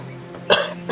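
A man gives a single short cough, a sharp burst close to the microphone, followed by a fainter second catch of breath.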